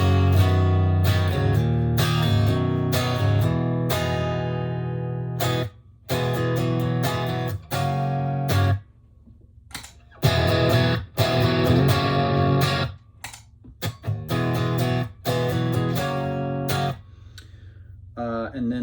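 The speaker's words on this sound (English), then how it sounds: "So let's get like a crunch sound" An electric guitar played through a Revv D20 amp into a 2x12 cabinet, with crunch overdrive and boost on, rings out in bold distorted chords and riffs broken by short abrupt stops.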